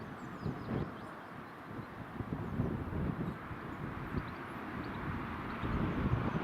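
A distant TUI Airways Boeing 737 rumbles in on approach amid strong crosswind gusts buffeting the microphone, a low continuous roar that swells slightly toward the end.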